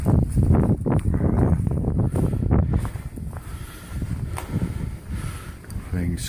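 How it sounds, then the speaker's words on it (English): Wind blows across an exposed mountaintop at a trail shelter, a steady broadband rush with gusty swells that runs the whole time, loud and close on the microphone, with a person talking over it. "it's up on top of the mountain. There's winds blowing into it."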